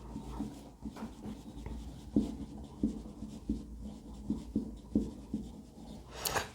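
Pen or chalk writing during a class lesson, a series of soft scratchy strokes in an irregular rhythm, close and quiet, with no talking.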